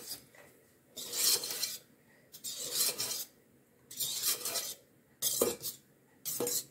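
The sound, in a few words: mixing batter with the stand mixer's whisk by hand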